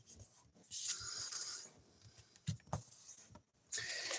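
Cardstock being creased along a mountain fold for card-making gives soft, close rubbing and scraping strokes in several separate bursts, with quiet gaps between them.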